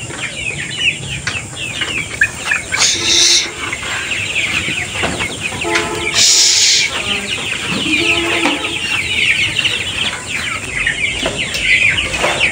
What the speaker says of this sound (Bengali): এই যে এটা দেশি মুরগি, বড় মুরগি